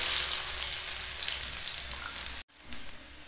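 Chopped onions hit hot mustard oil that already holds a dry red chilli and whole garam masala after frying paneer, giving a loud, steady hiss that cuts off abruptly near the end before a softer sizzle resumes.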